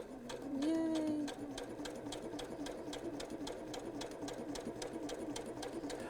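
Sewing machine stitching quilt pieces at a quilt festival, a steady close rhythmic needle clatter running throughout, with a brief tonal whine near the start.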